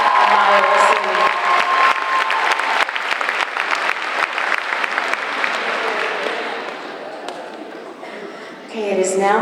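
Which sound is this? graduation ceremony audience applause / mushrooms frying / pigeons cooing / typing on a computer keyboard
graduation ceremony audience applause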